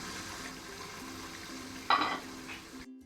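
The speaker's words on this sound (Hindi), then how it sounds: "दूसरी तरफ ये हमारा पानी उबल चुका है" Water with cinnamon, black cardamom, cloves and a little cumin boiling in a pot on a stove, a steady bubbling hiss with a brief louder splash or stir near the end before it cuts off.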